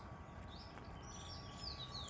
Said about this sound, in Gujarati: એકદમ શાંત વાતાવરણ પક્ષીઓનો કલરવ